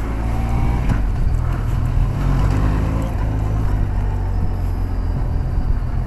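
Benelli TRK 502 motorcycle rolling in first gear with the clutch slipped and a touch of throttle, a steady low engine rumble close by, continuous and even throughout with no talk.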